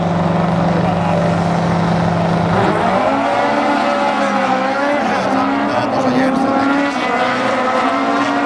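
Autocross race cars at the start of a final roar loudly together, a dense, steady engine drone that rises in pitch as the cars pull away.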